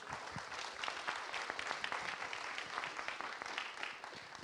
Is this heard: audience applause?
yes